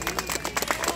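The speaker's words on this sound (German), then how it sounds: "Kurzen Applaus mal für Claudia, bitte." A small audience at a public forum in Falkensee gives Claudia a brief burst of clapping, a quick patter of hand claps lasting about a second.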